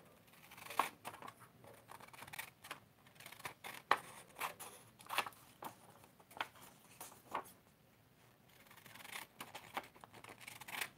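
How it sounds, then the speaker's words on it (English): Scissors snip steadily through navy blue card stock while someone makes handmade cards. Many quick, close, crisp cuts fall in an irregular rhythm, with brief pauses, and no talking over them. "I'm going to cut this down."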